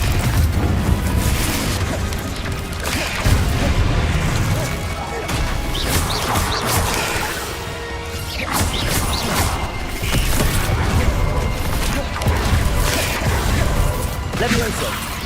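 Confringo fire spells burst in Hogwarts Legacy gameplay, with repeated crashing booms and whooshing impacts layered over busy, continuous game noise.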